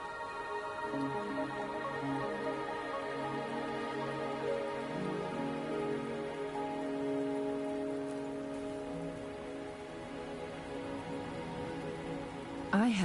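Rain pours steadily throughout a Wuthering Waves game scene, an even hiss of drops layered under gentle held musical notes, ending with a brief sharper sound.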